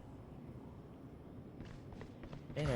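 Footsteps walking in the tactical shooter Valorant, a soft steady patter of steps in the game's background during a round, fairly faint and continuous.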